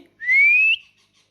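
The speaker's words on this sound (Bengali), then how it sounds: "টিয়া পাখি" A parrot's single clear rising whistle, sustained for about half a second, close and loud against a quiet background.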